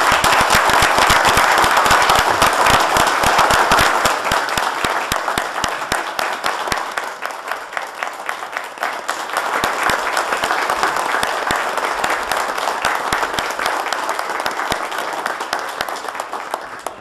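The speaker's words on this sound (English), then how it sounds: "Can we give them a round of applause?" Council meeting audience giving a round of applause after a proclamation, dense sharp clapping that starts loud and thins slightly partway before swelling again, with no talking.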